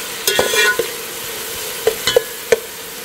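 Two onions fry and get stirred in a pot for a curry, a low sizzle under several sharp scrapes and knocks of a utensil against the pot, spaced irregularly.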